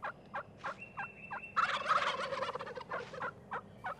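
A wild turkey lets out a rolling gobble in the middle of a series of short, sharp calls, fairly faint and some distance off.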